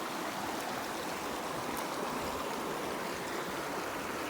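The cold Little Elbow River in Kananaskis rushes along in a steady broadband hiss. The flow is close and even and plays alone, with no voices.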